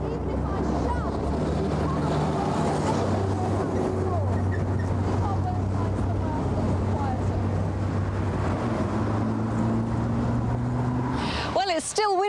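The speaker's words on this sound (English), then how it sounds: "one or two words against the dreadful din of this traffic" A heavy, continuous roar of road traffic picked up by a video camera's front-mounted microphone, with wind buffeting the microphone throughout and a brief sharp disturbance near the end.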